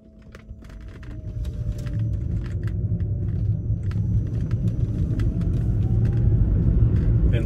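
A home-converted electric car with 90,000 miles drives smoothly around the block, giving a low road rumble that builds steadily as it picks up speed, with faint ticks and a thin motor whine but no engine noise.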